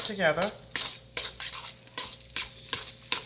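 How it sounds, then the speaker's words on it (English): Lasagna filling with mozzarella cheese is mixed in a bowl, giving a series of close, rhythmic scraping and clinking strokes of a utensil roughly every third of a second, with a brief voice at the start. "Now we're going to mix this together."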